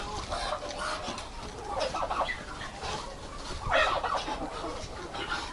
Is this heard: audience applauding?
no